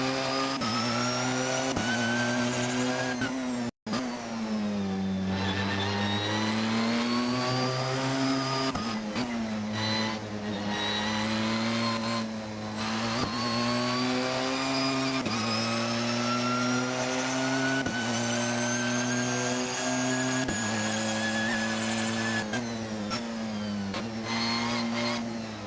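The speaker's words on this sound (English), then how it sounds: "I am driving the Porsche 911 2016 hybrid" A 2016 Porsche 911 hybrid in a racing game sounds as a continuous loud engine drone, its pitch rising and falling with throttle and gear changes, with one brief dropout and no talk over it.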